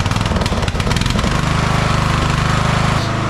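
An overhead valve engine on a racing lawn mower runs close by with oil burning off the muffler, a loud, rough, fast-pulsing chug that holds steady throughout.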